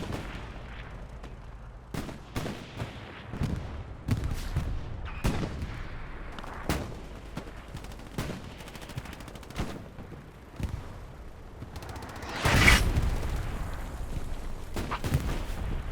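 Repeated heavy cannon blasts from a Puma armoured vehicle in a Tobruk tank-battle video game, sharp booming shots spaced a second or two apart with a louder, closer blast near the end, with no talking.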